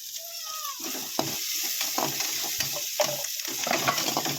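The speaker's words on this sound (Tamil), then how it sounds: "வெங்காயம் நல்லா வதங்கட்டும்." Onions sautéing in a pan for onion rasam, a close, steady sizzle with stirring scrapes and light clinks of the spoon against the pan.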